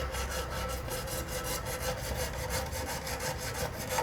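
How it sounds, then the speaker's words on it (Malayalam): A hand saw cuts through an empty plastic jar in quick, regular back-and-forth strokes, a close, rasping rhythm that continues evenly without speech. "ആദ്യമായിട്ട് ഒരു വാള് കൊണ്ട് ഇതിൻ്റെ ഈ ഒരു കണക്ക് വെച്ചിട്ട് ഒന്ന് മുറിക്കുക."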